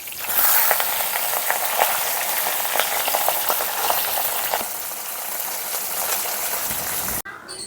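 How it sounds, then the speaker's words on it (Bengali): Pabda fish frying in oil in a village-style kitchen, a continuous loud sizzle with scattered crackles and small clicks as the pieces are turned, ending abruptly. "মাছটা উল্টে পাল্টে ভেজে নেব"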